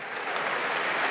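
An audience at a tech conference breaks into a brief, steady burst of applause.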